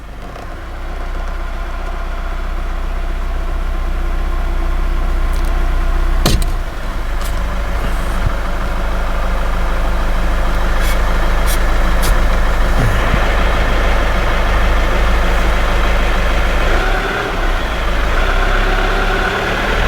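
A diesel engine held at a raised 1500 RPM during DPF cleaning drones steadily and loudly, a constant low rumble with a few faint clicks and higher tonal whines over it, no talk.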